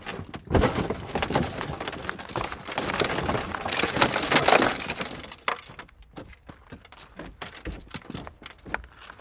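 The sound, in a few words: Benchmade Triage rescue knife glass breaker smashing a car window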